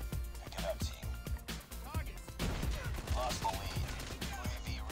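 Call of Duty Mobile gunfire cracking in quick, repeated bursts throughout a chaotic match, with a voice talking over the shots.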